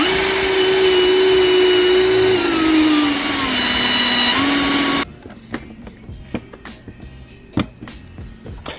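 A vacuum cleaner whines loudly and close inside a Subaru Forester XT, its pitch dropping as the nozzle works the carpet, then it shuts off abruptly, leaving quiet knocks and clicks.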